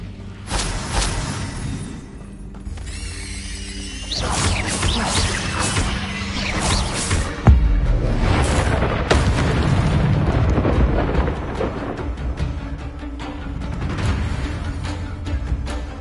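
Incendio fire spell blasts in the Hogwarts Legacy video game: loud crackling bursts and booming whooshes of fire magic, with a sharp impact near the middle, amid other spell effects and game sounds, with no one talking.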